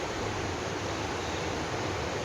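Flowing water rushes steadily behind a person at home, a dense, unbroken broadband roar with no change in level and no voices over it.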